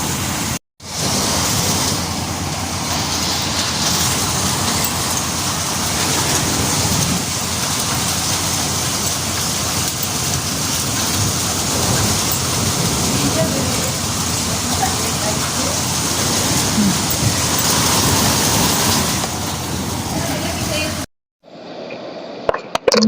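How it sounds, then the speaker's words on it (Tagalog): Heavy rain mixed with falling hail in Tabuk, Saudi Arabia makes a loud, steady hiss and patter close by for about twenty seconds, cutting off abruptly near the end. "Mga ice, nangahulog, naglagting-lagting."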